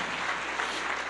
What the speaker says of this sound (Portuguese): Aplauda o Senhor Jesus, pode sentar.